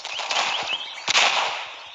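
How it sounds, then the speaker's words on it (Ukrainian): Rapid sharp video game gunshots crack in quick succession over a dense noisy backdrop, with a louder burst near the middle. "Наші стріляють, наші стріляють."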